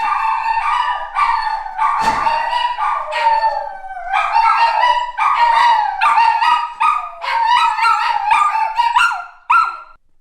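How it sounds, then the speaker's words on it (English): Several dogs bark and howl in rapid, overlapping bursts, loud and close, with a high yelp rising above the chorus. "So when somebody leaves, the dogs bark."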